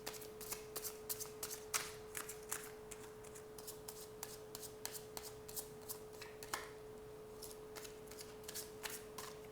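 Tarot cards being shuffled and drawn: a quiet, steady run of soft riffling flicks and slaps repeating in quick succession, close and alone, with a faint steady hum underneath.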